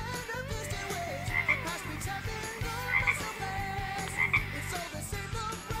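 Froggy, the frog from a Sonic video game, croaks in short repeated calls about every second and a half, set low under continuous game music.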